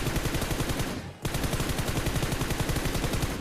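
Gunfire in a battle royale video game, loud and continuous rapid automatic bursts with a short gap near the middle, dense and close throughout.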